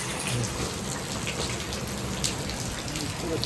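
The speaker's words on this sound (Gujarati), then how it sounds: "અડધી પોણી કલાકથી ચાલુ છે વરસાદ" Steady rain falls over a village farm field in Botad, where cluster beans are being picked after half an hour of rainfall. A continuous, close, even patter with no voices.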